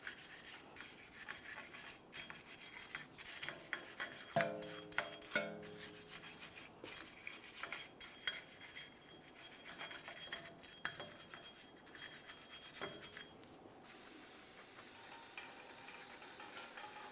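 Steady scrubbing and rasping on the raised ridges of a Jeep Wrangler steering knuckle, close and continuous with brief pauses, ending in a softer hiss.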